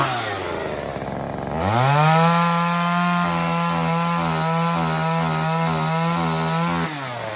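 A 1980s Mastercraft (Poulan) chainsaw fires up and runs, its two-stroke engine revving up and holding a loud, steady buzzing drone close by for several seconds before dropping back.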